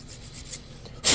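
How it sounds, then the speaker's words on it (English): A hand file rasps against the edge of a metal stuffing tube for a Proboat Veles 29 RC boat, a short scraping stroke heard up close before a sharp, loud burst at the end. "So use a reamer, get you a file, kind of file the edge."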